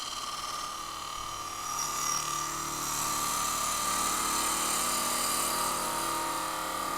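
A lathe gouge cuts into a spinning, highly figured English walnut bowl, giving a steady whooshing, buzzing hiss of motor and tool that swells slightly after the first couple of seconds and holds evenly; no talking.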